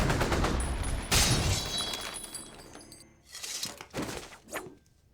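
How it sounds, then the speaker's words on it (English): Bullet hit effects for Deadpool film action footage: a dense, loud run of sharp shattering impacts and rapid gunfire-like bursts, easing off before a few separate cracks near the end, with no talk. "The next thing that we did was to actually put in the bullet hits."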